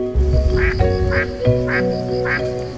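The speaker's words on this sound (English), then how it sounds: "The spotted-billed duck can be seen all year round here" Spotted-billed ducks quack at Longluan Lake, four evenly spaced loud quacks close by over a steady low hum of background ambience.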